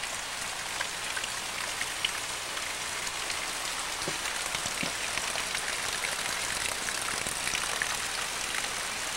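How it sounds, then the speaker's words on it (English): Steady rain falls and patters on surfaces nearby, a continuous even hiss with faint scattered drops, heard alone with no talk. "This is about the 4th time it's rained today."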